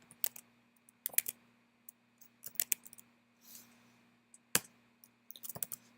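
Keys clack in short irregular bursts as a terminal command is typed on a computer keyboard during a Linux install, crisp close clicks separated by brief pauses in an otherwise quiet room.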